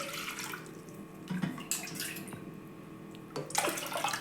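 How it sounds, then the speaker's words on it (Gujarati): Water poured from a bowl into a pressure cooker for boiling raw chickpeas, a soft, quiet splashing and gurgling stream that runs on alone. "તો 4 થી 5 વાટકી જેટલું આપણે પાણી એડ કરીશું"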